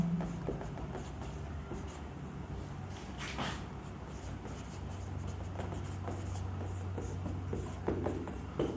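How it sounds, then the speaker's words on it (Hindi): Chalk or marker strokes scratch across a board during a chemistry lesson, faint intermittent scrapes over a steady low background hum. "मैं लिख देता हूं"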